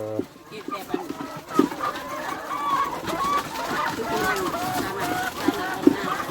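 Hens clucking throughout a busy egg-laying chicken farm, a steady chorus of clucks and squawks with some louder nearby calls, while people talk underneath.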